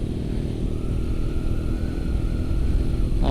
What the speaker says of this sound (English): The bike is running very well. It's a nice motorbike.